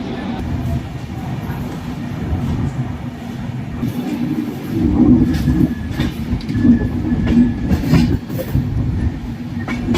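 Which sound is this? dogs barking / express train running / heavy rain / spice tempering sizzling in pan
express train running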